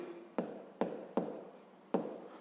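Pen writing numbers on paper for a fifth-grade maths exercise, heard as quiet, close scratching with four distinct taps from the pen striking the page at the start of each stroke, with no talk.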